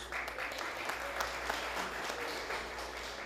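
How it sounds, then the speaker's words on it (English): Audience applause honoring event hosts at a gathering, steady mid-level clapping from a crowd, heard over a low constant hum, with no speech. "let's give them a round of applause"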